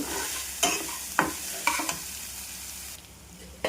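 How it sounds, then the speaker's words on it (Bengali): Lentils and spice paste stirred and fried in a pan: a soft, steady sizzle broken by several sharp spoon scrapes and knocks against the pan, close by and with no voices. "ডালগুলো একসঙ্গে আবার ভালো করে কষে নেব।"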